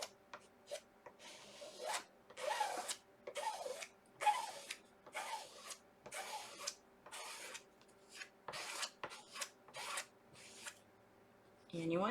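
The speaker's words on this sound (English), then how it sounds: "going in a downward motion to scrape the chalk paste into the screen portion" Chalk paste is scraped in repeated downward strokes across a stencil screen, a series of dry rasping swipes close up, spaced by brief pauses.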